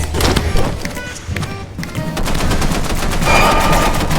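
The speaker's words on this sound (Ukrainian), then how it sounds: "Ти стріляєш!" Rapid bursts of gunfire from the video game Content Warning rattle on continuously, loud and dense, with automatic-weapon chatter throughout.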